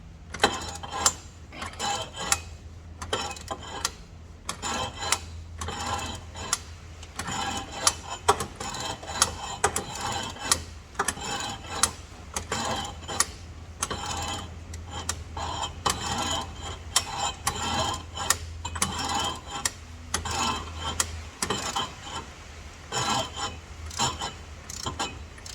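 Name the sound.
ratchet clicking while removing crank pulley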